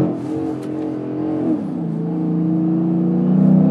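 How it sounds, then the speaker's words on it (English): A Dodge Challenger engine revs while driving, rising in pitch as the RPMs climb, loud and close from inside the car, with no talk over it. "Wow, this thing revs like a four-cylinder."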